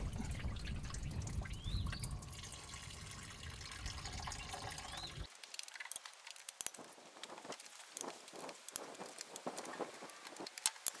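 Coolant draining from a 1970 engine during a rebuild, a faint liquid trickle and patter that turns into scattered soft drips, with no talking.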